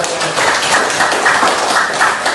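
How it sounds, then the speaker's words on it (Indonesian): Students in a classroom applaud together, a dense, steady burst of clapping from a whole class that carries evenly and loudly from start to finish. "Tepuk tangan."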